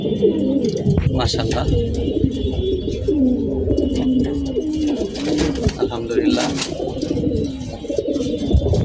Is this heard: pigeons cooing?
yes